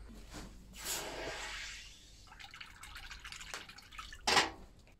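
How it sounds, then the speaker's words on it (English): A hot forged steel icicle is quenched in water: a faint hiss and bubbling rise and then fade, and a brief splashy burst follows near the end, all quiet and close. "So now we're just going to quench it and have a look."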